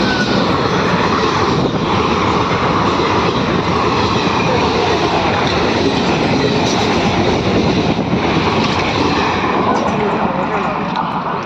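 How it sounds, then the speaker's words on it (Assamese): A train arriving at a station, a loud continuous rumbling roar that holds steady from start to finish. "ট্ৰেইনখন আহি গ'ল।"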